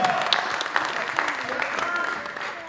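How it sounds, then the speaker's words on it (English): A round of applause from the crowd at a Samoan Night youth crusade, dense clapping with a few sharper claps standing out, sustained at an even level under a faint background tone. "let's give him a round of applause again."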